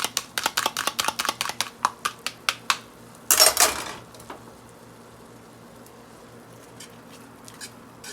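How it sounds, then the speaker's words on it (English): A utensil stirs egg into Top Ramen soup in a pot, making a quick series of light clinks and taps against the pot. A louder scraping clatter follows, then only quiet bubbling and faint scattered taps. "you kind of want to stir this around until your egg is done"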